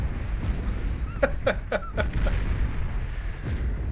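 Tsar unit artillery firing in the Beyond All Reason strategy game, a rapid volley of four or five booming shots in a row over a rumbling battle backdrop, then a lone later blast.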